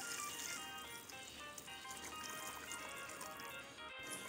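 Hot water is poured into a cooking pot of masala while mutton liver biryani is being prepared, giving a faint, continuous liquid splash and fill sound with no talking.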